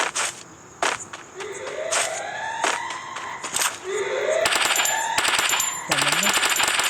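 Rapid automatic gunfire in the mobile game Free Fire, dense bursts of sharp cracks that grow thicker toward the end, mixed with sweeping game effect tones and louder than any talk.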